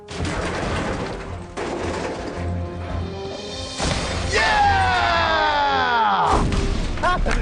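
A wooden catapult launches a stone: a heavy mechanical thud and crash, followed by a creaking, groaning wooden strain and another impact, all loud and close in a continuous rumble.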